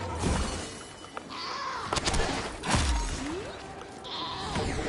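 Goats bleating in the Plants vs. Zombies: Battle for Neighborville video game, several loud, wavering bleats with thuds and clattering effects between them, no talk.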